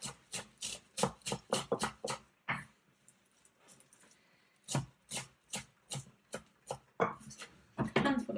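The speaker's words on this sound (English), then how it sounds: "Then I've got a handful of parsley, which I'm just going to fairly finely chop." A knife chopping a handful of fresh parsley finely on a board, crisp rapid rhythmic cuts in quick bursts with a short pause midway, close and clear.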